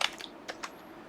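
A few quick key taps on a small computer keyboard while entering router configuration commands, close and fairly soft, spaced irregularly over a quiet background.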